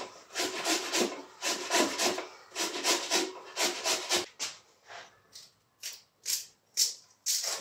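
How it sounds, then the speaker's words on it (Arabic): A tomato is rubbed against a hand grater in a home kitchen, giving close, rhythmic rasping strokes in quick bursts with short pauses between them and no talking. "دابا نحك مطيشه عاوتاني باش ندير بطاطا مشرده"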